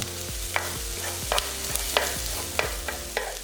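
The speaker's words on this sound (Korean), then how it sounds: "반 정도 익으면 양파, 고추 넣고 3분 정도 볶아주고" Vegetables stir-fried in a hot pan, a steady sizzle broken by repeated scrapes and taps of a spatula.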